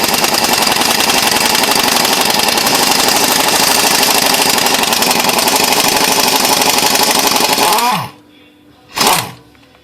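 A pneumatic impact wrench working loose GM exhaust manifold bolts, a loud continuous close hammering rattle lasting about eight seconds, then cutting off, followed by one short burst.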